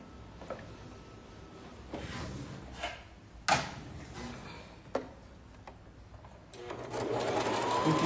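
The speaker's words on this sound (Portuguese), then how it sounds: "Agora eu vou virar novamente essa parte pra gente conseguir passar uma costurinha aqui e aqui." Sewing machine stitching a fabric pencil case, starting with faint scattered ticks and clicks of handling, then building into a steadier, louder running hum near the end, close by.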